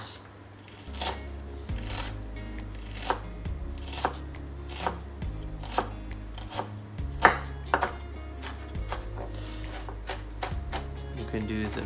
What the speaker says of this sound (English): just slightly cutting it so I can dice it up nice and small